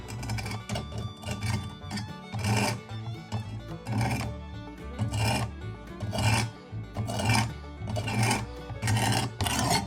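A knife is drawn across a 220 grit stone on a Work Sharp Precision Adjust Elite, making steady rhythmic rasping strokes that repeat close up, with no talking.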